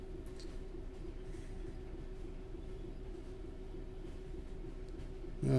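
A Class 66 diesel locomotive pulls away under power in Train Sim World 4 on the Doncaster to Peterborough line, giving a steady low engine drone with rail rumble, quiet and unbroken, with a sharper sound at the very end.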